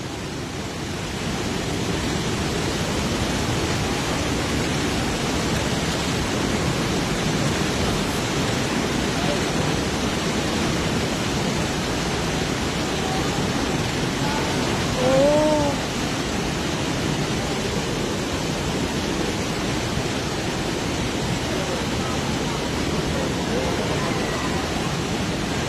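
Trümmelbach Falls, a glacial waterfall, roars with a constant, dense rush of water close by throughout, and a voice briefly cries out partway through.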